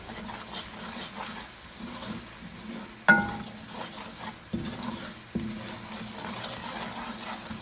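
Onions and spices cook in a pan for sarson ka saag, a low steady sizzle with a few sharp clinks and scrapes of a spoon against the pan, no talking.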